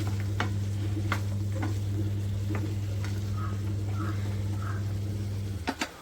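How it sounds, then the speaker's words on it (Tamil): Tomato chutney ingredients sauté in a pan with a steady, even sizzle over a low hum, broken by occasional light taps of a stirring spoon. "அப்படியே ஸ்டவ்வை குறைச்சி வச்சுட்டு மூடியை போட்டு வதங்க விட்டுலாம்"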